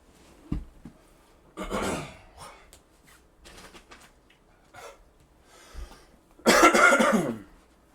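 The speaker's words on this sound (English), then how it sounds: "hopefully those coughs don't come through so abrasive" A person coughs repeatedly and loudly close to the microphone, in several separate bursts with quiet gaps between them, the last cough the longest and harshest.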